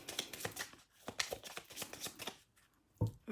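A deck of playing cards cut and handled at close range, with short papery riffles and brushes, then a brief pause and a soft tap of the cards being set down, faint and without voices.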